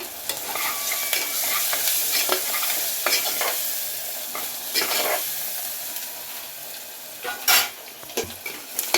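Turmeric and ginger paste with onion sizzles in a pan for bitter gourd curry while a spoon stirs it close by, scraping and clinking against the pan over a continuous fry.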